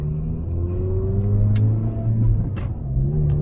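A bolt-on tuned Toyota Corolla with headers, catback exhaust and cold air intake rumbles steadily while driving, a continuous low engine drone with road noise and a couple of faint higher swells, no talk.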